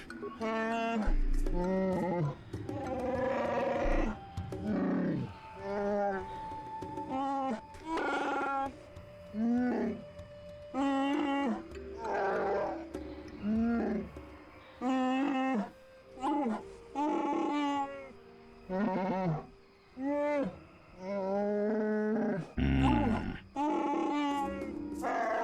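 Alien characters in Star Wars: Knights of the Old Republic speak in a guttural, growling language, with many bursts of grunts and roars broken by short pauses, close and clear.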